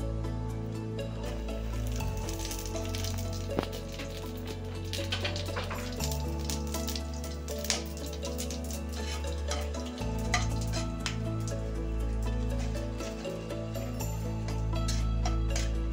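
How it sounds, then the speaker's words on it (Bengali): Whole spices (dried red chillies, cumin seeds, green cardamom, cloves and a piece of cinnamon) fry in hot oil for tempering, with a soft sizzle and stirring in the pan beneath steady, louder background tones. "দুটো শুকনো লঙ্কা, হাফ চামচ জিরে, গোটা জিরে, 4টে ছোটো এলাচ, 4টে লং আর এই টুকরো দারচিনি। এটা আমি ফোড়নে দিয়ে দেবো।"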